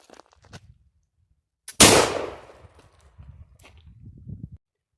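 A blunderbuss loaded with buckshot pellets and .36 caliber balls fires a single loud, sharp blast outdoors, followed by a fading rumble and quiet handling noises.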